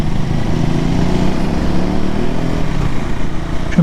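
A KTM 390 Adventure motorcycle engine drones steadily under way, a close, continuous low hum with little change in pitch.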